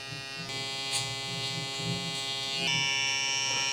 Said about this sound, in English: I'm gonna go here and very gently just go up with my trimmer like that